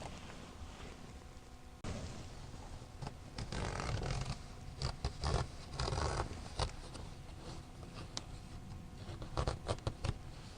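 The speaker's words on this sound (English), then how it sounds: "I'm going to rip this seam out and see if that seam allowance will be enough" A fabric seam is being ripped out on a blackout curtain made for a Pleasure Way Ascent campervan, giving close, soft tearing and snipping bursts at an uneven pace.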